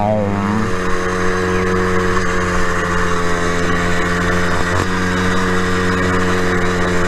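A Go-Ped GTR GP460 gas scooter's small two-stroke engine runs loud and close throughout, holding a steady buzzing drone with a brief pitch shift at the start and no talking.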